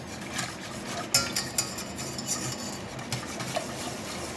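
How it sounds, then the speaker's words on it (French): A spoon scrapes the edges and bottom of a pan while stirring béchamel, a quiet steady rubbing with a few sharper clinks of utensil against metal. "On frotte bien les bords, s'il reste un peu de farine."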